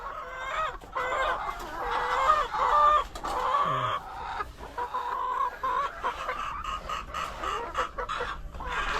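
Chickens clucking and calling continuously up close while their feed is stirred and prepared, with a rooster-like crow mixed in and a brief low thud partway through.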